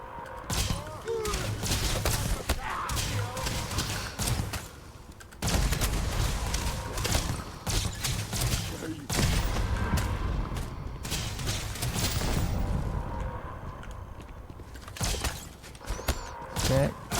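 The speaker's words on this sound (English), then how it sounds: "Stop shooting them." Gunfire in the game Starfield crackles in rapid bursts of repeated shots, broken by brief pauses and heavy thumps, with voices talking over the firefight.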